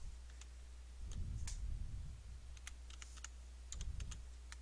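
Typing on a computer keyboard produces light, scattered clicks over a steady low hum. The keystrokes come in small irregular clusters and are fairly quiet and close.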